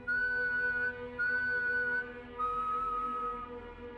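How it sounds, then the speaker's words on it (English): Three long, steady whistled notes sound one after another with brief gaps, clear and fairly loud with no other sounds. "3 long whistles, then silence."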